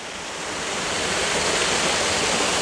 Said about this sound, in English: beautiful little spill off waterfall here